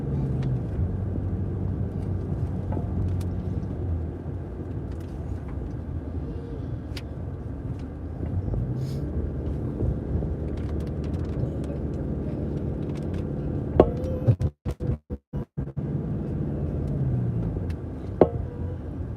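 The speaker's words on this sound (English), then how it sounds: "we're driving through this intersection, we don't have a stop sign, we look both ways, and then we accelerate, and then we go" A car rolling through an intersection and then accelerating: a steady low engine and road rumble heard from inside the cabin, with a brief dropout and a few clicks partway through.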